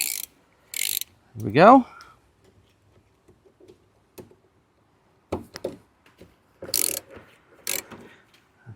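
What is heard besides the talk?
ratchet undoing T30 Torx bolts on Cybertruck mirror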